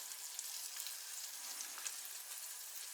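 Egg and bacon fry slowly over medium heat in a pan, a faint, even crackling hiss with small scattered pops, quiet and unaccompanied by speech.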